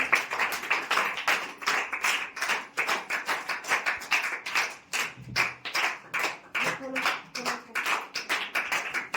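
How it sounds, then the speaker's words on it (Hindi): An audience at a school farewell function claps in a steady, even rhythm of about three claps per second, loud and close, while voices talk over it. "तालियां बजाते रहिए प्लीज।"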